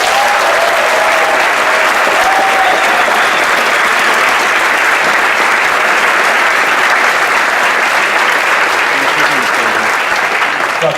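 Sustained audience applause fills the room at the Boys State of Kansas 2015 opening ceremonies, an even, dense wash of clapping from a large crowd that holds steady for the full length with no pauses.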